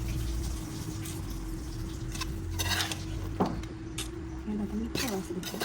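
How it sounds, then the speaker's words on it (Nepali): Garlic fries in a pan while being stirred for pork and buff achar, with spoon scrapes and metal clinks over a soft, steady sizzle and some nearby talking. "लसुन चाहिँ फ्राई भएको छ।"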